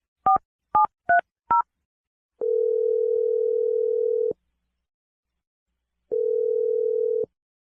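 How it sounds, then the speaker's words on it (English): A phone number is dialed by keypad, giving five short dual-tone DTMF beeps in quick succession, followed by two long steady ringback tones separated by a pause of silence, all clear and close with no talking. "I'm going to dial her number right now."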